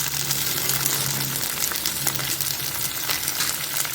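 Okra sautéing in hot oil in a pan, a loud, close, continuous sizzle with a rough, crackling texture and no voices.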